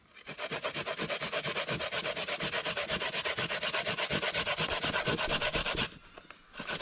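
Fresh coconut is grated by hand for coconut dumplings, making fast, even rasping strokes in a steady rhythm close up, which stop abruptly near the end.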